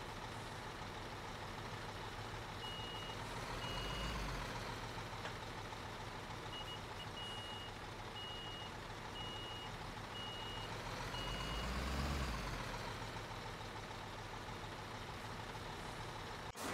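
A truck reversing in the Construction Simulator video game, its backup alarm beeping in a steady repeated pattern over a low idling engine that swells twice, with no talk.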